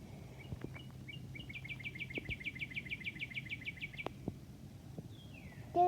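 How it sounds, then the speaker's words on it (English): Naked baby birds in a nest beg for food with a rapid series of high, thin chirps in a quick repeating burst, faint against a quiet background with a few soft clicks and knocks. "Little naked baby birds."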